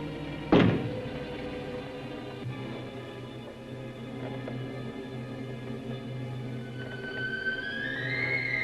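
One heavy knock thuds from inside a closet in a 1962 horror film scene, then a low steady hum lingers, with a thin rising tone near the end.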